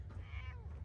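Short game meow from a cat in Fallout 4, a single drawn-out, slightly wavering call heard at low level over a constant low background hum.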